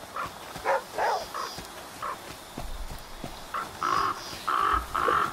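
Crows caw in The Flame in the Flood, several harsh calls in repeated bursts, some overlapping, fairly close over a low rustling game backdrop.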